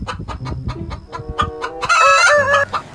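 A chicken clucks in a quick run of short, close clucks that builds into a louder drawn-out squawk near the end.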